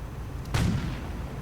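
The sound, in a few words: anti-tank half-track gunfire in a WW2 strategy video game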